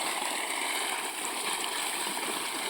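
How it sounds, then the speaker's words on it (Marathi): Steady broadband rush of water spraying and flowing from a sprinkler irrigation pipe fed by a 3 HP Shakti solar pump, constant and fairly close, with no voices. "सध्या छडी भरून पाणी येत आहे"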